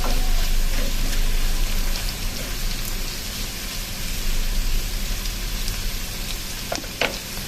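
Potatoes sizzle and crackle steadily in a hot frying pan, salted and stirred, a dense close hiss with occasional scraping clicks near the end.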